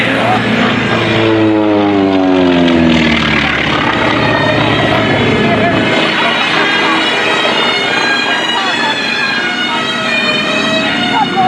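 A T-28 Trojan propeller trainer airplane drones loudly overhead at an air show, its engine tone sweeping downward as it passes, then settling into a steady roar.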